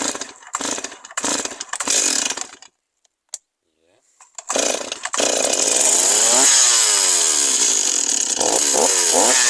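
A Stihl MS 260 chainsaw is pulled and fired up after a carburetor repair: a few sputtering start attempts and a short quiet gap, then the engine catches and runs loudly and steadily, revving near the microphone.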